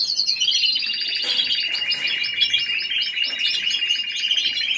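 A songbird sings loud and close, with a continuous run of rapid, bright chirps and trills that carries on steadily without a break.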